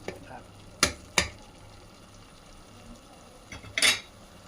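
Mutton pieces land in a pan of frying masala gravy for a mutton curry, giving a few sharp, separate clatters and thumps over a quiet, low background.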